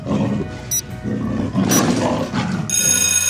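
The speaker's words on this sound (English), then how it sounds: "Yes, a leopard." A leopard roars loudly and up close in a rough, rasping burst that swells and falls over about three seconds, and a bright ringing tone cuts in near the end.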